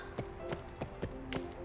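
Horse hooves clop in Barbie Horse Adventures, the game's riding sound effect: about five soft, evenly spaced beats over a steady musical background, moderately faint.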